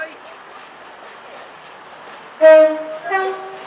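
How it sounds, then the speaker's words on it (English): A British Rail Class 222 diesel train rumbles steadily as it pulls into Sheffield station, then a loud two-tone horn blares twice near the end, close and prominent. "Here's a 222 pulling in from St Pancras."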